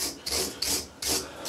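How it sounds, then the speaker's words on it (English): A wire brush scrubs rust off a Chevy 3600 truck axle in three steady, close, rasping strokes, each a bright scratchy burst with short gaps between. "using a wire brush is tiring me out"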